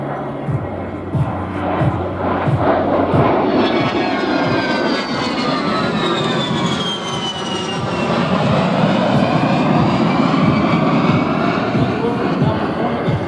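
An aerobatic airplane's engine roars at an airshow, loud and sustained with the pitch sweeping as it maneuvers. An announcer talks over it at times.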